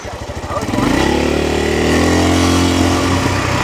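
A CSC TT250 dual-sport motorcycle rides past at close range, its single-cylinder engine revving up and holding a loud, steady drone as it passes.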